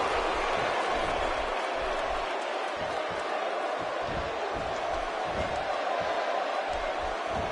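Arena crowd in the WWE 2K17 wrestling game, a constant dense roar of cheering filling the whole stretch, with faint muffled thuds beneath.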